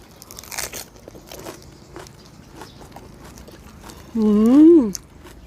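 Crunchy spicy Thai squid jaw salad chewed close to the microphone, a few sharp crunchy bites spread out and fairly quiet, followed by a brief hummed or voiced sound near the end.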